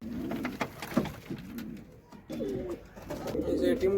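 Domestic pigeons cooing close by in a loft beside their eggs, several soft throaty coos in short repeated bursts, with faint background noise between calls.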